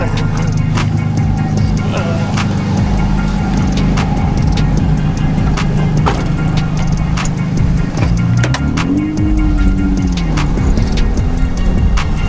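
A drift car runs its last lap of the day at a grassroots drift event, a continuous loud engine drone with rising and falling revs and scattered sharp clicks and pops, while voices talk over it.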